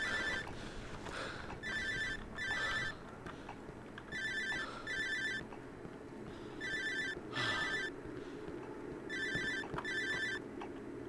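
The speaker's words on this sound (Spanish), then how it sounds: "quiero saber dónde mierda está el maldito teléfono" An electronic telephone ringtone from the horror video game Cry of Fear, ringing in repeated paired bursts with short pauses between them over a dim ambient background.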